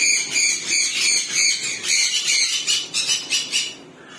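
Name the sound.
bird squawking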